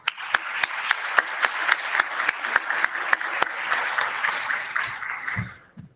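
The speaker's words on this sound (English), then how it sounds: "I think they all deserve a huge round of applause again for doing that." Sustained applause for scholarship prize winners, with many hands clapping and a few sharp individual claps standing out in a steady rhythm before it dies away near the end.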